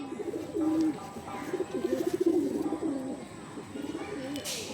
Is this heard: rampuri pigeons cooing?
yes